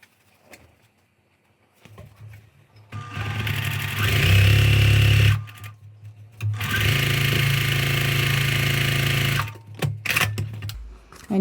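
Sewing machine running steadily as it stitches fabric strips onto a center strip for a spring quilt block, a loud close whirring hum in two long sustained runs separated by a short stop.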